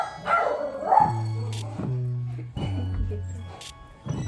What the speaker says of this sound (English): Excuse my dogs for barking